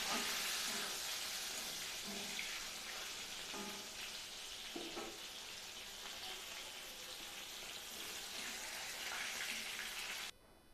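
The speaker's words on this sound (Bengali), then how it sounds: "ওই পটল ভাজার তেলের মধ্যে আমি সর্ষে দিয়ে দিলাম" Oil sizzles and crackles steadily in a pan up close as mustard seeds fry in oil left from frying pointed gourd, with a few brief spits, then the sizzle drops away abruptly at the end.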